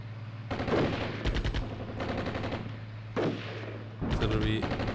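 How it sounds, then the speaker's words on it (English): Artillery fire in the Cold War strategy game Armored Brigade 2, rumbling bursts of shelling and scattered shots arriving in several waves over a steady low hum, with some voice underneath. "Artillery is coming in, but it's still a bit away."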